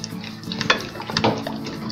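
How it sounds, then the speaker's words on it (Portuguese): A spoon stirring homemade ginger and honey candy in a pan, with a continuous sizzle and repeated scraping strokes against the pan, close and fairly loud. "Tem que mexer sem parar, tá, pessoal? Porque senão ela vai grudar aí."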